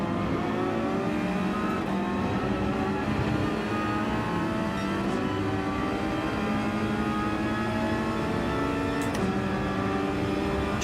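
GT3 race car engines in the Gran Turismo 7 game drone loudly and without a break, holding high revs as the pitch sweeps up and down through gear changes while other cars run close by in the slipstream.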